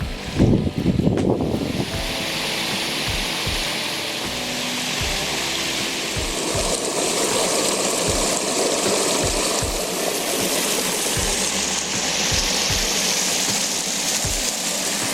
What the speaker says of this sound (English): Waterfalls are running good.